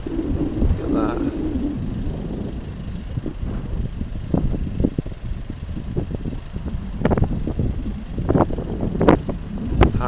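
Wind on a high hilltop at Lagg Distillery on the Isle of Arran rumbles steadily against the microphone, with uneven gusty bursts throughout.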